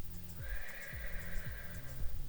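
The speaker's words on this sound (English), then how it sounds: "You can hear that. The whinnying." Horses out on open grassland near a parked camper ambulance, whinnying in repeated loud neighs close by, each with a falling pitch, over a steady background with no talking.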